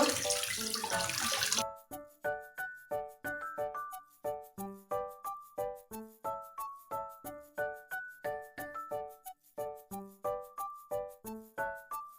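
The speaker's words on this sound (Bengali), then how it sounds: "ভিজে গেছে এখন ভালোভাবে ধুয়ে নিব" Tap water runs loudly for under two seconds as things are washed, then stops abruptly and gives way to a steady, rhythmic run of bright melodic tones for the rest of the clip.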